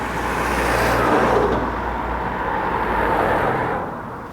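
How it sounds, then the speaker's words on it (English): Lorries and other vehicles rumble past close by on a town street, a loud swelling engine and tyre roar that rises and fades as each one goes by. "Just listen to the loudness of these lorries going past and vehicles."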